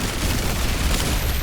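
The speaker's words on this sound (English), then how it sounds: "That's a lot of explosions." A dense wall of explosions and gunfire-like blasts in the roguelike game Pathogenic, loud and continuous with no clear gaps across the short span.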